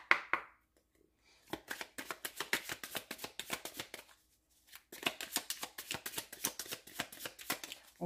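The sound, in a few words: shuffling oracle cards for a tarot reading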